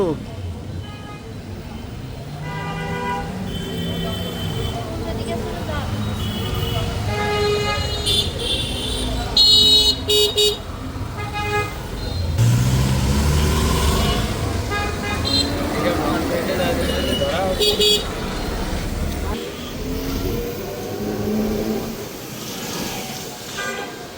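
Riding an electric rickshaw through busy traffic in Cox's Bazar, with car horns tooting around, engines and road noise, and people talking over the bustle.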